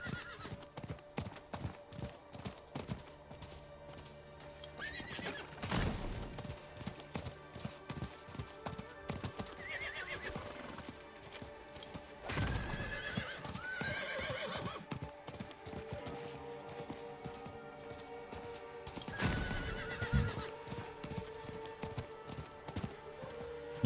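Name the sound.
horse neighing and hooves, video game mount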